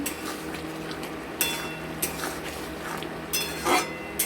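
Small fish curry being stirred in a pan after garam masala goes in, with sharp metallic scrapes and clinks of a spatula against the pan over a low background hum, close by.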